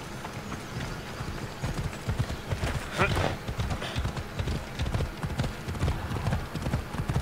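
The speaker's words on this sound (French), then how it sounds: "Il est reparti où, mon cheval?" A horse gallops in Assassin's Creed Odyssey, rapid rhythmic hoofbeats close and loud, with a whinny near the start and a voice talking over the hooves.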